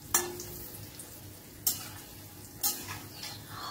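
Koftas made from blended raw chickpeas fry in a pan over a medium-high gas flame: a soft, low sizzle runs under three sharp, evenly spaced utensil clicks against the pan.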